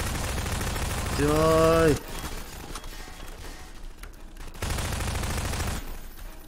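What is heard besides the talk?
pistol gunfire in the video game Garry's Mod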